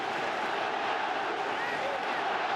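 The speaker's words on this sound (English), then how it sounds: "Listen to this crowd." A steady wash of crowd noise fills a soccer stadium during FC Barcelona vs Juventus, a dense, sustained roar of many voices at even loudness throughout.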